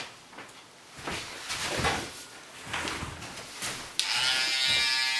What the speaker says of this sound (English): you can really hear how your clippers are cutting